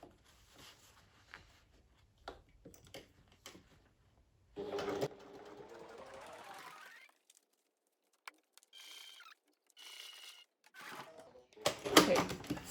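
A sewing machine stitches around the edge of a small fabric pouch in bursts, with a longer steady run mid-clip and brief pauses between short stitching spurts, close and moderately loud.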